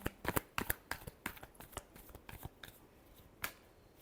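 Tarot cards shuffled by hand in a series of quick, crisp riffling snaps and flicks, close and fairly quiet, with a final isolated slap near the end and no voices.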